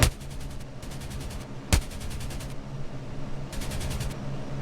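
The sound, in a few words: machine-gun fire from F-82 Twin Mustang, Il-2 1946 video game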